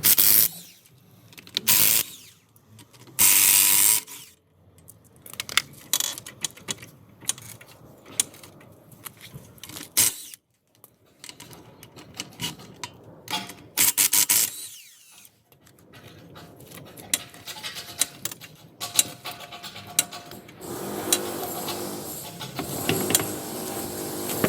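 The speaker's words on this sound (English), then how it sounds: "in today's video we're going to be changing the brake pads on this Audi Q7. So to start off with, we're going to take the wheel off" Mechanical clatter, ratcheting and tool clicks in bursts while the wheel comes off an Audi Q7 for a rear brake pad change, close and busy with short gaps of near silence.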